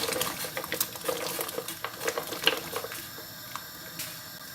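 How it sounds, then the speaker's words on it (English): A pan of water on the stove rolls back to a boil while carrots blanch, giving a steady, moderately loud bubbling and hissing with scattered small pops and no talk. "So I'm going to let that come back to a boil, give it 5 minutes"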